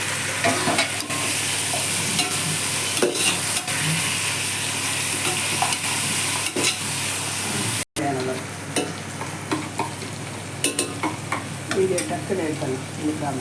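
Mutton pieces fry in oil in a pot for white pulao, a steady broadband sizzle with scraping stir strokes running throughout, briefly cut off midway, while a voice talks intermittently over it.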